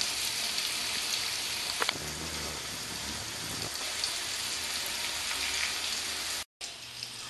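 Potatoes for an egg curry sizzle and crackle steadily in hot oil in a pan, a continuous close frying hiss with a few sharper pops and a brief cut near the end.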